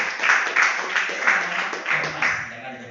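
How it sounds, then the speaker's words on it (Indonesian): An audience at an Indonesian product presentation for an organic fertilizer claps in scattered bursts, a handful of loud rhythmic claps rising and fading within a few seconds. "Tepuk tangan untuk AWM Bapak Ibu."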